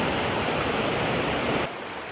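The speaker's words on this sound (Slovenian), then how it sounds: "v koritih je pa ful vode" A mountain stream swollen with water rushing through a rocky gorge gives a loud, steady broadband roar that suddenly drops to a softer rush near the end.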